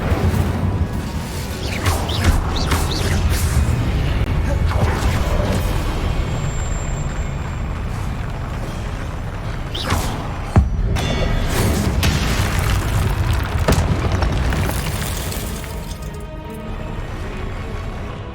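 Incendio and Confringo spells from Hogwarts Legacy fire off in quick succession, a dense, continuous roar of booms, whooshes and crashing blasts, with one sharp impact near the middle standing out.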